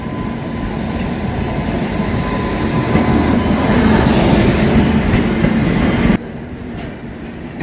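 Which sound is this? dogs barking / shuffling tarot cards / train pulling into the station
train pulling into the station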